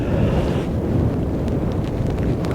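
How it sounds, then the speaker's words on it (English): Strong wind and rain at a match-fishing lake at Sykehouse Fisheries, heavy rumbling buffeting on the microphone with a steady roar throughout. "Wind in my face with rain"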